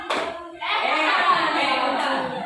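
A school class plays a clapping game, a brief clap followed by a sustained burst of many hands clapping together, close and loud, with children's voices mixed in.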